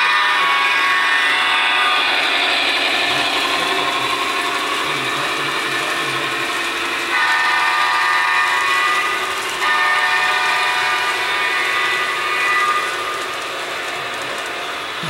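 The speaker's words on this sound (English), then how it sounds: "A Christmas train." Model Christmas train running on a layout at a model railroad club open house, a continuous loud whirring, clicking gear-and-wheel rattle that holds steady for the whole stretch, dipping slightly near the end, with no voices.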